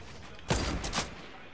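A gunshot in the Fortnite Chapter 2 battle royale game: a few quick, moderately loud shots close together, the loudest first, with a fainter report following.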